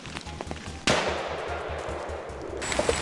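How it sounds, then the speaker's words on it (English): A sharp gunshot crack followed by a sustained burst of rapid gunfire at charging wild boars, loud and close, with an echoing tail through the trees. "Bursts of gunfire echoed through the trees."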